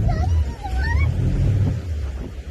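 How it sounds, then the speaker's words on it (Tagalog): Strong ocean waves surge and rumble continuously on a fishing outing, with heavy low roaring wash and some wind buffeting the microphone, while a voice is faintly heard over it. "lakas ng alon"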